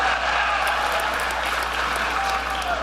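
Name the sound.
audience applause at a political speech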